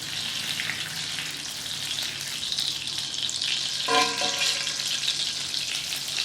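Butter, about two tablespoons, sizzles and crackles in a hot pan for smothered catfish, a loud close hiss that stays steady throughout with no talk.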